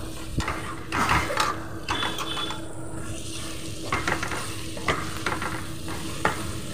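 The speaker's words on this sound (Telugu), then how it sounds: "కారం జీలకర్ర పొడి వేసి ఒకసారి కలిపి" Brinjal curry frying in a pan as chili powder and cumin powder are stirred in, with a loud steady sizzle and repeated scraping of a spoon against the pan, alone without talk.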